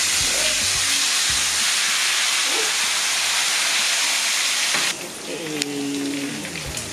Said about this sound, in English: We're just going to put the dessert in the oil.